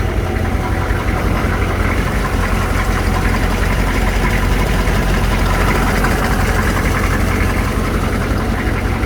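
A 1984 GMC truck's 6.2-litre diesel engine idles steadily and loudly after a cold start, heard from inside the cab, a constant low rumble with a rough, knocking clatter throughout.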